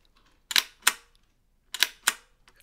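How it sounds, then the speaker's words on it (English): A Polaroid camera's big shutter button is pressed four times in two pairs, each a sharp mechanical clack with a brief rattle, close and crisp against near silence. "look at this big old shutter button"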